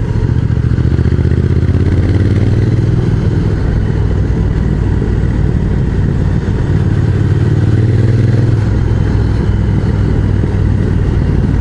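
Motorcycle riding a mountain road between Sallanches, Megève and the Arly gorges, its engine droning steadily and loud throughout with wind noise, a slight dip and swell in pitch mid-ride, no talking.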